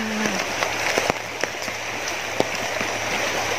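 Rain patters steadily on an umbrella outdoors, a dense close hiss broken by sharper drops striking the canopy at irregular intervals.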